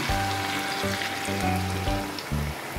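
Steady sizzling and crackling of small fish frying in hot oil in a pan, with a low hum running underneath throughout.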